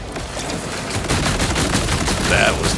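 In the Borderlands 4 video game, rapid assault-rifle gunfire rattles in dense bursts alongside booming explosions, loud and close. The volleys run nonstop and swell in the second half.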